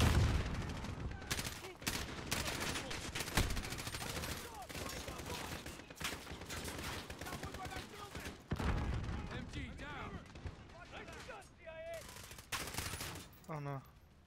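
Rapid gunfire in the video game Call of Duty Modern Warfare, dense volleys of automatic shots and cracks crowding the whole stretch, with players talking over the battle.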